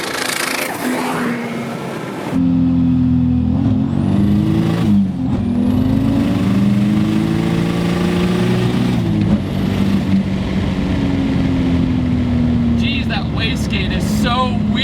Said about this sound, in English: When it's controlling the boost and making that flutter sound, it almost reminds me of when you drive like a high horsepower Subaru.